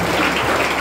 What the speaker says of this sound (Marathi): टाळ्या वाजवत.